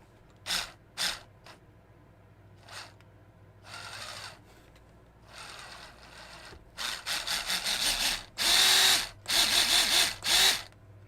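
The motor and gearbox of a GMade GS02 RC crawler whir in short bursts, starting and stopping repeatedly, then running in longer, louder pulses of rough, grinding gear noise up close.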